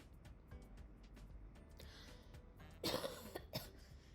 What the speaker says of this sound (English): Sorry guys, I have cough. I'm coughing.